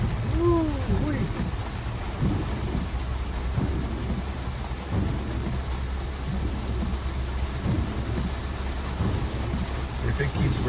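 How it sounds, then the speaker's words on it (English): Heavy rain drums on a car driving through Miami streets, a dense constant roar with low thunder rumbling underneath and faint tones from inside the vehicle. "If it keeps raining like this for several hours, it might get flooded."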